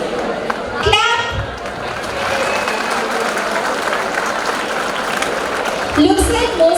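College students at a Freshers' Day event clap together in a dense, steady wash of applause that fills the hall, with voices heard over it at the start and end.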